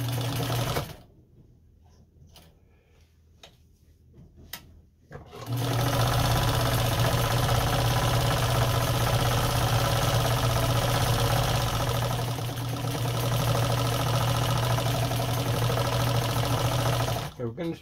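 A Nelco sewing machine stitches, starting with a few short bursts and then running steadily and loudly for about twelve seconds, with a constant motor whir and fast needle clatter.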